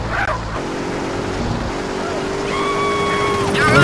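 A battered car driving in GTA San Andreas, its steady engine drone holding throughout and rising toward the end, with a higher tonal whine joining partway through.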